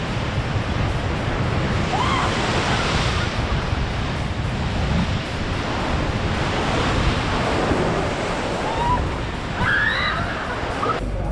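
Ocean waves crash against cliffs on the coast of Tenerife, a continuous loud roar of surf with heavy wind buffeting the microphone and no talking.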